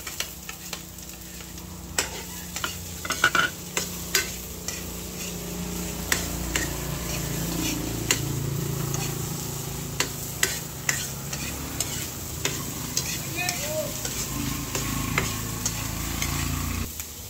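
Carrot and chili being stir-fried together in a pan for a sweet and sour dish: a constant, close sizzle punctuated by sharp spatula scrapes and clanks against the metal at an uneven pace.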